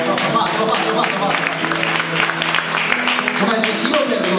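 A studio audience at an Italian television political talk show applauds steadily, with dense clapping throughout and people talking over it.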